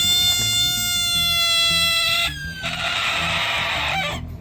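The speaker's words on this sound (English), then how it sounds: "this is a frog that yells like a cat" A loud, drawn-out wailing cry from a frog, harsh and catlike, holding a steady pitch, then shifting to a rougher scream before cutting off.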